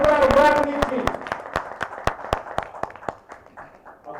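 Audience clapping welcomes a singer at a song launch event, sharp separate claps thinning over a few seconds, with a voice speaking over the opening moment.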